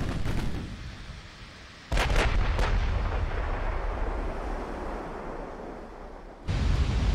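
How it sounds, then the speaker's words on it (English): Naval shells from a 1940 Russia versus Japan battleship duel in Ultimate Admiral: Dreadnoughts exploding on impact: heavy booming blasts with a sustained rumbling wash, three distinct hits rising sharply over a constant sea-like roar. "At least the HE is exploding on impact."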